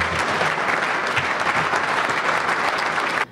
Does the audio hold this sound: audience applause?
yes